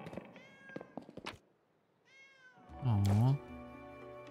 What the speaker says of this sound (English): Little cats.